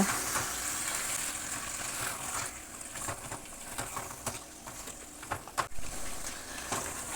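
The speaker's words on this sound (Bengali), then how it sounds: "হাই ফ্লেমে মাংসটা একটুখানি নেড়ে চেড়ে নেব, এইভাবে একটুখানি ভেজে নেব।" Chicken stirred and fried over a high flame for chicken rezala, giving a constant, fairly quiet sizzle broken by occasional scraping clinks of the spoon against the pan.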